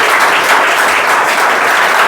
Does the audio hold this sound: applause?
yes